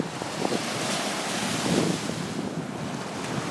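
Waves wash onto a steep Long Beach shore, a steady broad rush of surf mixed with wind buffeting the microphone, fairly loud and continuous with no voices.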